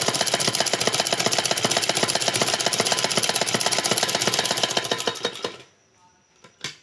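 A sewing machine stitches a salwar in a fast, steady mechanical clatter of rapid repeated needle strokes for about five seconds, then stops, followed by a few faint clicks.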